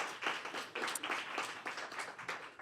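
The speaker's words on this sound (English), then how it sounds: "So we really want to give them a round of applause for thanking them for coming here to be with us today." A panel audience gives a round of applause, faint and distant, a steady patter of clapping hands with no talk over it, lasting a couple of seconds.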